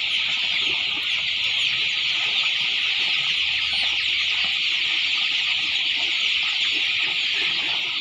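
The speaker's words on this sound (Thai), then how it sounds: "ป้าจ๋าก็จะให้เบิ่งลูกไก่ลูกไก่ลูกไก่ตลอดด้วยระยะนี่ค่ะจะให้เบิ่งแต่ลูกไก่" Eighteen-day-old three-breed cross chicks peep continuously in a dense, loud chorus of high chirps, close by and steady throughout, with no talking.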